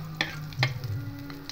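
Bitter gourd and potatoes frying in a pan, a steady close sizzle broken by a few sharp spatter pops and scraping stirs, with no talking.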